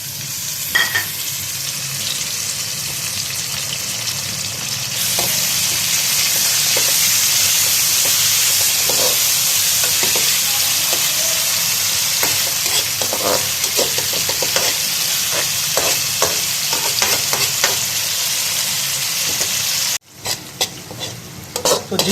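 Chopped tomato fries with browned onions in a hot pan, giving a loud, continuous sizzle and hiss broken by scattered stirring scrapes and clicks, with a sharp break near the end.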